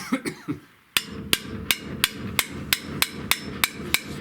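Repeated metal hammer taps on a stuck brake part of a Chevrolet C20 truck, about ten sharp, evenly spaced strikes at close range after a few softer knocks, with no talking.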